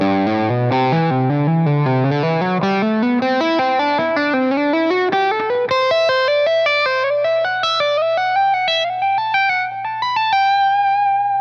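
A distorted electric guitar plays a fast legato lick, notes climbing smoothly in pitch and ending on a sustained high note, with chorus-like shimmer.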